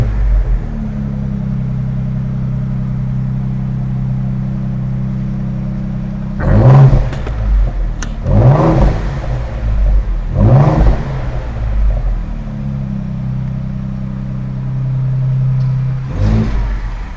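A custom Ford Bronco Raptor engine idles with a deep steady rumble in Baja mode, then revs hard four times in a row, each a throaty exhaust roar rising and falling back to idle.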